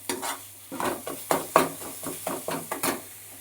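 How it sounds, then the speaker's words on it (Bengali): Food with spices is sautéed in a pan, with rhythmic, close scraping strokes of a spatula about every third of a second over a light sizzle. "দেখো এবার ভালো করে শুধু নেড়ে নেড়ে কষিয়ে নিতে হবে"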